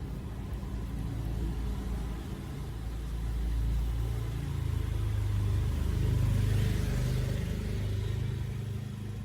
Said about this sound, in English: Sorry, I'm waiting for cars to pass.